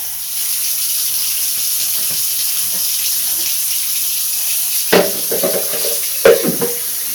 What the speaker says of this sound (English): Take it apart, rinse it out.